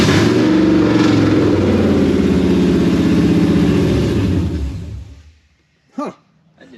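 A HEMI V8 in a Dodge Dakota runs loud and close with a throbbing, uneven idle and revs, then shuts down into quiet, followed by a brief faint chirp.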